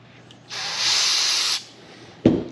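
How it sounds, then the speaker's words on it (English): Brake cleaner blasts from a can onto a paper towel in one steady hissing burst of about a second, followed moments later by a brief sharp knock. "we're going to spray some brake cleaner on it"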